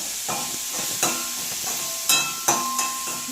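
Sliced onions fry in a very hot pan and are stirred, giving a steady close hiss of sizzling broken by several sharp scraping clinks of the spoon against the pan.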